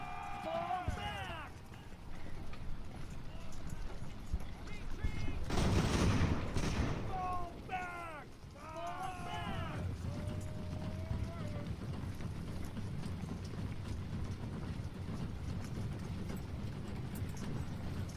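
Cavalry horses charge in the naval battle game Ultimate Admiral: Age of Sail, with faint galloping hooves mixed with scattered gunfire volleys, while someone talks over the quiet battle noise.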